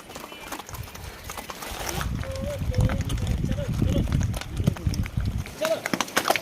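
A horse walks up a snowy mountain path in Gulmarg, its hooves clip-clopping in a steady close rhythm under loud talking from the rider, with cold wind noise in the background.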